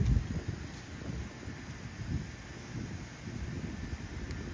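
Autumn wind gusts blow steadily through trees in Georgia, a low rumbling rush that swells and eases, with a faint rustle of falling leaves and no voices.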